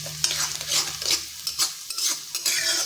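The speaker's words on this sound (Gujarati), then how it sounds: "ડુંગળી ઉમેર્યા પછી આપણે અહીંયા ગેસની ફ્લેમ ફૂલ રાખવાની છે અને સરસ રીતે આપણે અહીંયા ડુંગળીને બધું સરસ સાતળી લેવાનું છે" Chopped onion sizzles in a pan over a full gas flame for a fenugreek-leaf gravy curry, with a steady fry hiss and repeated scraping strokes of a spoon stirring close by.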